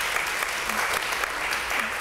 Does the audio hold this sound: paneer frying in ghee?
no